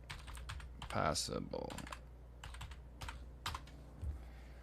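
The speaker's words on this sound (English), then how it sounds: "I was typing very fast." Rapid typing on a computer keyboard, a fast run of close key clicks with brief pauses, alongside someone speaking.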